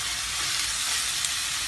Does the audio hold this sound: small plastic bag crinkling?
no